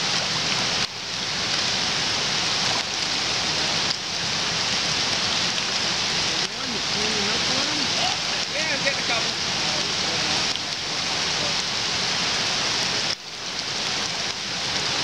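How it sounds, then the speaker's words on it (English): Steady rain falls outdoors by Elk Creek on an October morning, a dense continuous hiss of drops on surfaces with occasional brief dips, close and even throughout. "It's raining."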